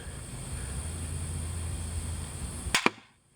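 A gun fires a single sharp report near the end, the projectile glancing off wood with a quick second crack, after a steady low hum of background noise; then near silence.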